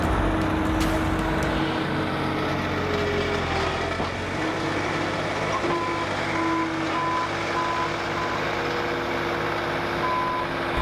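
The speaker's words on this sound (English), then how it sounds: "we have brand new tires on that skid steer right there, and I'm so happy that it's up and going again" A skid steer loader with brand new tires runs steadily nearby, its engine droning continuously while a reversing alarm beeps repeatedly over it; no one speaks.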